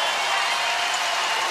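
A curling arena crowd at a women's world championship semi-final between Canada and the United States applauds a shot, a steady wash of clapping and cheering held at an even level throughout.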